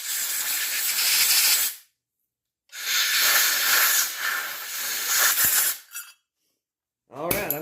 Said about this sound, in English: I'll blow some air through here and see if anything comes out up here on the upper side